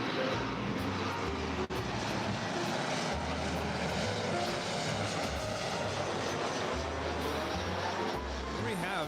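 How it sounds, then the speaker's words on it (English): A SkyWest-operated Delta Connection Embraer E175 jet arriving at LAX, a continuous broadband engine roar with low rumble, loud and unbroken, with faint people talking beneath it. "We have Delta Connection operated by SkyWest Airlines Flight 3637 coming in from Sacramento."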